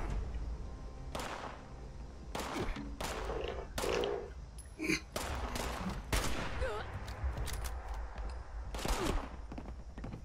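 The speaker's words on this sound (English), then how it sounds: "I think our illustrious friend is over here shooting at stuff. I hear gunshots." Gunfire in the video game Fallout 76 rings out in sharp, scattered bursts, several separate shots and short volleys spread across the stretch at moderate distance, with faint voices murmuring now and then.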